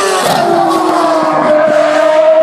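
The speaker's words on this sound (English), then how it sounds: "Taking its way up the hill in the hands of Marc Genet." A Formula One race car climbing the hill at the Goodwood Festival of Speed, its engine holding a loud high-pitched whine that steps up through the gears at close range.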